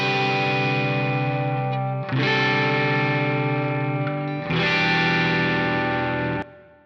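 Distorted electric guitar with an effects-laden tone and a low-pass filter softening the top end, three sustained chords rung out loud and alone, heard before and after EQ in Pro Tools.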